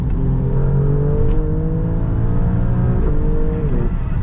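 Alfa Romeo Stelvio Quadrifoglio SUV pulling hard on a highway, its engine note rising steadily and then dropping sharply at quick gear changes, loud and close from inside the cabin.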